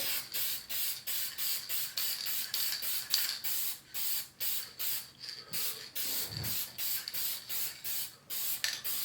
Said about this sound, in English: I spray inside the house